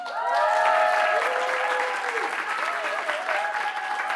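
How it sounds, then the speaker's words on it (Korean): Dense crowd applause for a guitarist being introduced during a band's live studio concert, swelling early and holding steady, with bright sustained tones ringing above the clapping. "많은 박수 부탁드려요."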